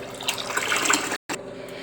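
Water pours steadily into a bowl of rice for soaking, about a second of continuous splashing trickle, then a brief silence before a softer flow resumes.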